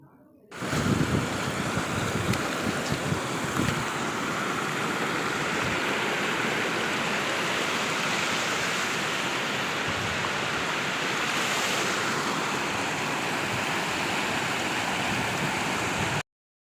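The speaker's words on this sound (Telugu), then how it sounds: "వాటర్ ఫాల్స్ చూపిస్తున్నాను మీకు" A waterfall roars with a steady, loud rush of falling water that continues unbroken throughout, at Gadigummu waterfalls.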